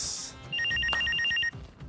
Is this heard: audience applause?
no